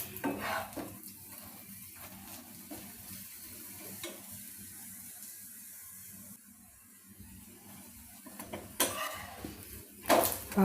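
Wheat adai sizzles on a pan while a spatula scrapes and clatters as it is flipped. The clinks come in irregular bursts, growing louder near the end, and no one speaks.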